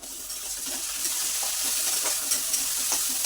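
Tomatoes frying in a wok-style pan with oil: a steady, bright sizzle and hiss holds throughout, close and even, with small crackles popping through it and no talk.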